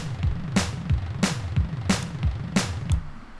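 Synth sweeps in an electronic music track repeat roughly every two-thirds of a second, each a bright rising whoosh over a pulsing low bass pattern, loud and close with no voices.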